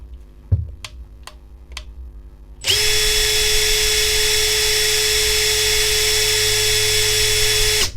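A Makita TD172D impact driver, Japanese-market model, whirs up after a few faint ticks and runs steady and loud at high speed for about five seconds, then cuts off.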